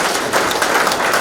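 Audience applause at a presentation as the next speaker is invited up, a dense, steady wash of many hands clapping that stays loud and even throughout, with no talking over it.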